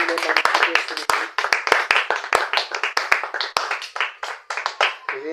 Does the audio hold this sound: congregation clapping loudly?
yes